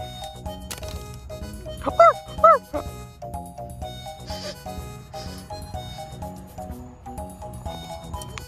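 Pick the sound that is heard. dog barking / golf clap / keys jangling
dog barking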